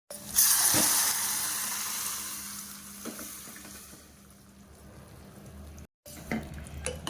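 Spices for a moong dal soup tempering hit hot oil with a loud burst of crackling sizzle that gradually fades, followed by a brief clatter and more sizzling.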